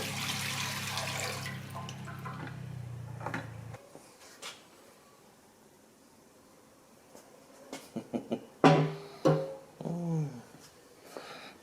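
Water pours steadily into a welded steel oil pan from a Datsun 520 engine to test for leaks, then stops. A quiet pause follows, then a few drips and sharp metallic clunks.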